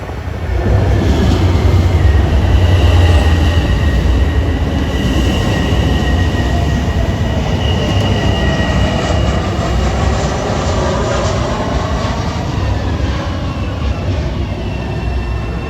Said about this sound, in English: here comes train 8774 en route from Jamaica to Patchogue